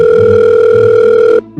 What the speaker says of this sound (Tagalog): Teka, tawagan ko muna si Maymay para maaga din siya.